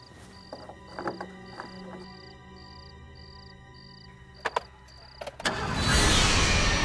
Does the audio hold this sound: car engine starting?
yes